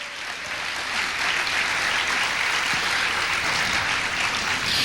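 Church congregation claps together in a broad, swelling round of applause, building over the first second and then holding steady and full, with no talk over it.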